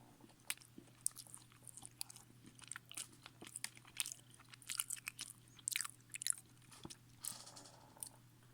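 Close, quiet chewing of chocolate caramel shortbread, with repeated crunchy bites and soft mouth sounds spread through the whole stretch and no talking.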